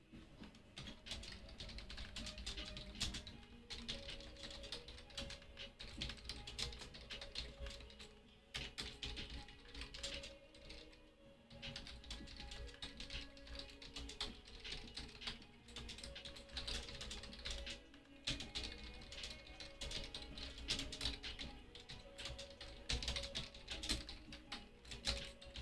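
Keys on a computer keyboard clatter in fast, irregular bursts of clicks for nearly half a minute, quiet and close, with brief pauses between runs and no voices.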